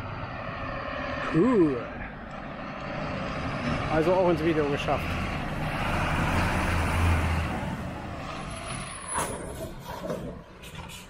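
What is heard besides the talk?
fire truck driving past a campsite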